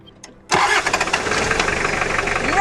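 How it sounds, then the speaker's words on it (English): A car engine with the bonnet open cranks and catches after fuel is pumped to the injector, somewhere in Kenya. It bursts in loudly after a brief quiet moment, then keeps running with a rough, pulsing idle. "Maybe you can try the engine again while the bonnet is still open"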